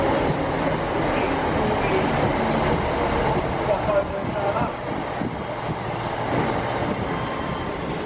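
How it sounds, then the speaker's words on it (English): A freight train passes on the main line as a steady broadband rumble and rush, loud and continuous throughout, with wind buffeting the microphone. "there's a bloody freight train gone south on the main line"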